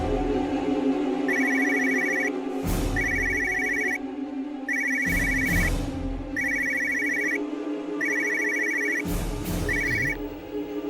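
A phone rings with a repeating electronic ringtone in regular bursts. Sharp louder knocks break in between the bursts, and no one speaks.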